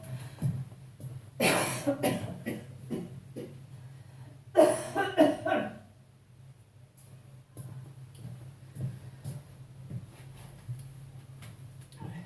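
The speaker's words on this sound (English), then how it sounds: "Excuse me, I'm going to cough." A couple of bursts of coughing, the second a rapid cluster, over a low steady hum and quiet background ticking.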